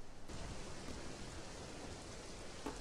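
Steady rain falling in the Roblox video game, a dense, even hiss of static-like patter that carries without a break at moderate level, with no talking.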